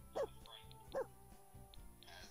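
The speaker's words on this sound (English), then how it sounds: "First, let's get the dog voice." Game dog voice from The Sims 4 Cats and Dogs, giving two short yips or barks about a second apart, then quieter murmurs over soft background music.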